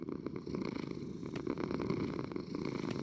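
A cat in the Minecraft video game purrs steadily in a soft, continuous rumbling loop with faint scratchy texture, fairly quiet and alone with no talking over it.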